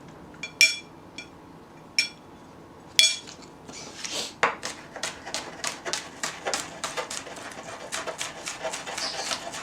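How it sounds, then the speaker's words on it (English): A knife chops scallions on a cutting board in a home kitchen, sounding as a run of quick, crisp, evenly spaced taps. A few sharper clinks come first, and then the chopping quickens into a steady rhythm close to the listener. "The only thing I have to do is chop up my scallion,"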